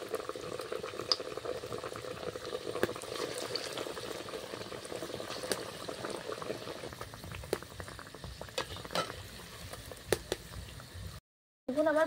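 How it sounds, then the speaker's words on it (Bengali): Cabbage chops deep frying in oil, a busy bubbling sizzle with small pops and crackles, close and low in level, steady throughout with a brief dropout near the end. "একইভাবে চপগুলো ভেজে নিচ্ছি।"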